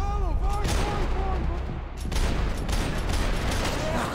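Rapid gunfire rattles in bursts through a Max Payne 3 firefight, loud and continuous, with someone speaking over the shooting.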